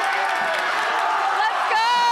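A crowd cheers and whoops at a high school football tailgate in Green Bay, Wisconsin, loud and lively with scattered shouts and clapping, under voices that talk over it.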